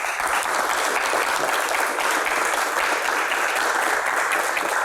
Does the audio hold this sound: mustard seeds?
no